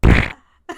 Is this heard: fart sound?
yes